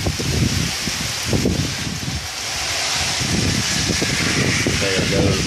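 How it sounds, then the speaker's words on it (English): Rain pours steadily during a Kansas thunderstorm, a dense continuous hiss with gusty rustling bursts, recorded close outdoors for several seconds with no other sounds standing out. "It is raining puppies and kittens."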